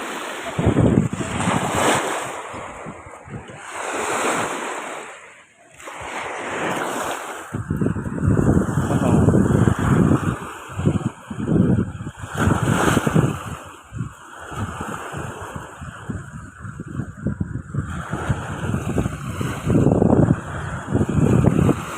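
Surf rolls onto a beach where fishing boats land their catch, with loud gusts of wind buffeting close by and waves breaking repeatedly in overlapping surges.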